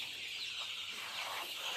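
Sonali chickens on a poultry farm, soft clucks and short calls over a dense, steady background of many birds, moderately distant, with no speech.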